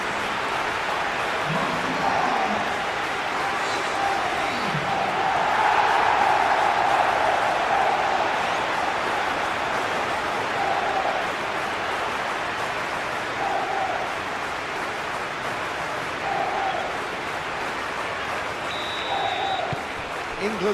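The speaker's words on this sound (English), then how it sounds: "the crowd are reacting to that now" Stadium crowd in a PES 21 football match between England and DR Congo, a steady, loud wash of applause and roar that swells briefly midway and never lets up.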